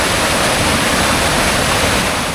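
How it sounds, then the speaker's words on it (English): Heavy water flowing in the Scottish outdoors makes a loud, constant rushing roar like a waterfall or fast stream. The sound stays close and unbroken, with no voices over it. "Look at all this water flowing."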